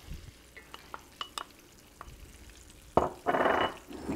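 A spoon mixes a creamy mayonnaise and mustard dressing in a bowl, with light scattered clicks first, then a louder burst of wet, squelching stirring near the end, close and alone.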